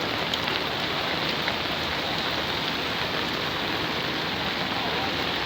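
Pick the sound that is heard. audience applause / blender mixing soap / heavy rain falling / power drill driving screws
heavy rain falling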